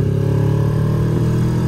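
A Moto Morini adventure motorcycle engine hums steadily while being ridden, a loud, close, continuous mid-pitched drone with no speech over it.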